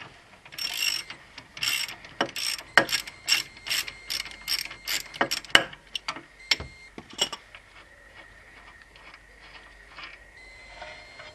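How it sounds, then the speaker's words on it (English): A socket wrench ratchets on the steering joint nut of a Vauxhall Frontera, giving close, loud bursts of rapid metallic clicks in quick repeated strokes, then slowing to a few separate clicks and a faint whirr. "we're using a combination of sockets here. 9/16 and 14 mil, because that's the ones that fit."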